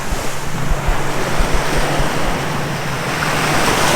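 Ocean surf breaks along the Hawaiian coast near Paia, a loud, continuous wash of waves mixed with heavy wind buffeting the microphone.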